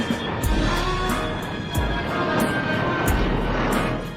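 A Northrop Grumman RQ-4 Global Hawk unmanned military drone flies past with a steady, loud, continuous roar that holds even for about four seconds, with only slight swells in strength.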